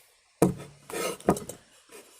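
A kitchen knife cuts into freshly baked biscuits, giving a sharp crisp onset followed by a soft crunching, crumbly rasp, with a second brief crackle as the blade moves; close and moderately quiet, with no talking.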